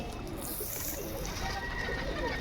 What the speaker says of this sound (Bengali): পায়রাটা হালকা টাল হয়ে গেছে কিন্তু মাটিতে খেলবে